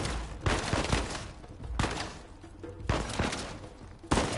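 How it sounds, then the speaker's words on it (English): Gunfire in the video game Uncharted 4, several loud bursts of shots a second or so apart with booming impacts and rumbling action sounds between them. "I'm gonna hide back here and give you cover fire."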